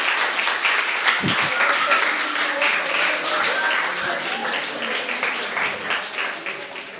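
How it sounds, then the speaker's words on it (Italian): A studio audience on an Italian television show breaks into dense, steady applause that holds for several seconds, then eases slightly toward the end. "Applausi!"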